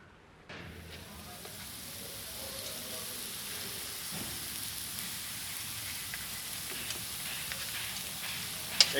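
Steady rain falls at Hiriketiya beach in Sri Lanka, a dense, even hiss that holds at a constant level throughout, with a few louder drops near the end.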